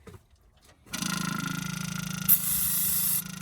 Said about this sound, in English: Hit it with some spray, bros,